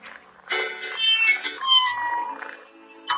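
A cat meows repeatedly in the Cheetah Simulator video game, a string of loud, bright, close-up calls that ends with one more short meow.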